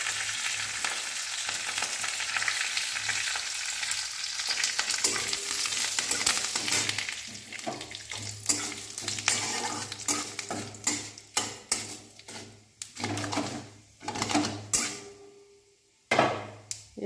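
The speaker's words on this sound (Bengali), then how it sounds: "এর মধ্যে আমি একটু শুকনো লঙ্কা ফোড়ন দিয়ে দেবো।" Dry red chillies tempering in hot oil, a loud dense sizzle at first that breaks into sparse sharp crackles and pops as it dies down, no voices.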